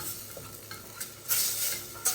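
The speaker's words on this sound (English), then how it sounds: "we're just melting getting our butter melted" Butter melting in a hot pan gives a quiet, steady sizzle, broken by a few brief stirring scrapes and two louder bursts of hissing near the end.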